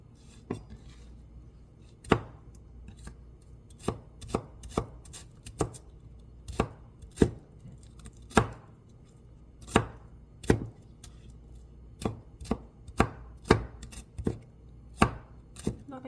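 A knife chops onion on a board in steady, unhurried strokes, about two dozen sharp close knocks with uneven gaps, alone with no talk over it.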